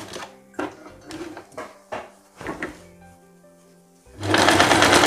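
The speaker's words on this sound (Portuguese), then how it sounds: "vai passar uma costura em cima dessa costura que já existe" A home sewing machine stitches a hem, running a second seam over an existing one: several short bursts of motor whir and needle clatter separated by pauses, then a loud sustained run at the end, close up.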